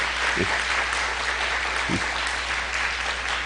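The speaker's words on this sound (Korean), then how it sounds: "목사님 사모님, 우리 한태수 목사님 사모님, 우리 박수로 한번 환영해요." A church congregation applauds to welcome the pastor's wife, producing a dense, even wash of clapping that holds steady throughout, with faint voices underneath.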